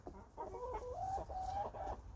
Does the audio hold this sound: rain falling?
no